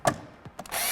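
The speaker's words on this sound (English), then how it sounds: "So to remove, pop that in, take the screws off," A Phillips screwdriver backs screws out of a Jacuzzi spa control housing, giving a few faint clicks and scrapes with brief gaps between them, followed by a steady hiss.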